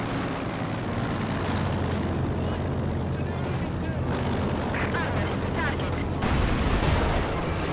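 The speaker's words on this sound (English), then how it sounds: "another mine triggered by a Panzer IV" A land mine detonates beneath a Panzer IV tank in Company of Heroes 2, set amid a dense, continuous roar of battlefield gunfire and explosions that swells slightly near the end.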